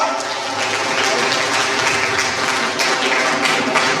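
Sustained applause from an audience at a college annual function and prize-giving ceremony, honoring a first-place MSc second-year student; dense, steady clapping fills the room throughout with a possible voice mixed in.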